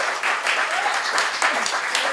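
An audience applauds for Frankie on a talk show, dense continuous clapping close up with a few scattered voices mixed in.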